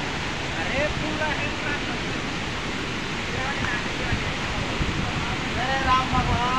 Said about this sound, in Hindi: आप लोग इसके नीचे और देख सकते हैं झरना, जो कि बारिश में काफ़ी ज़्यादा खूबसूरत लग रहा है